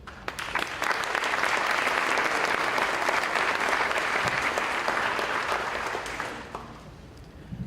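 An audience at a high school athletic awards ceremony applauds the baseball team, a dense sustained wash of many hands clapping that holds steady for about six seconds before tapering off near the end.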